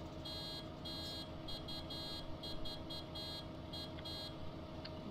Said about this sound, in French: Je mets les klaxons.